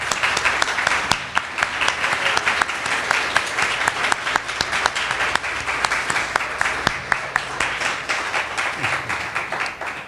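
Audience applause for students at a gathering, a sustained round of clapping with distinct sharp claps standing out from the crowd, steady for about ten seconds with faint talk underneath.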